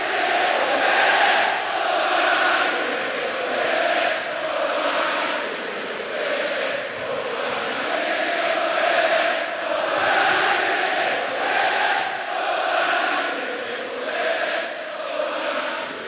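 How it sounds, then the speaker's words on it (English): A huge football crowd at Hillsborough stands and chants together, a dense, sustained wall of voices rising and falling in regular waves, loud and unbroken throughout. "the whole crowd stood and chanted"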